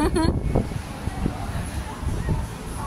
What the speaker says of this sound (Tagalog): Ay wow, ang lakas ng hangin.